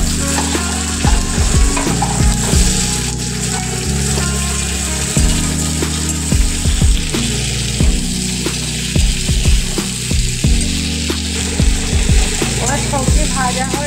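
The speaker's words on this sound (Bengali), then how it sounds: "সবজি ভাজা হয়ে এসেছে" Vegetables fry loudly in a hot pan with a steady, close sizzle, punctuated by repeated scraping clacks of a spatula stirring them throughout.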